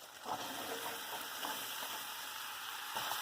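Onion, tomato, peas, carrot, potato and beans sautéing in a pan for vegetable kurma, a steady close sizzle with faint stirring scrapes throughout, no voices.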